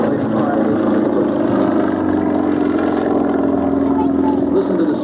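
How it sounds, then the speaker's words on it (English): A Sukhoi aerobatic aircraft with a round radial engine performs at a 1994 air show, its engine giving a steady loud droning roar throughout with a rough pulsing texture and no gaps. "Listen to the sound of that round engine."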